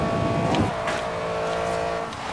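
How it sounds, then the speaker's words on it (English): A car engine in the racing game Forza Horizon 3 hums and revs steadily close up, with a brief burst of tire or acceleration noise early on. "I just like to listen to my engine."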